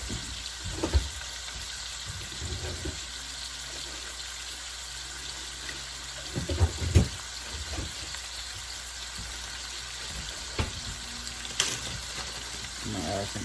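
Ground beef for loaded nachos sizzles steadily in a pan, a constant crackling hiss with a few louder clatters and stirring bumps scattered through.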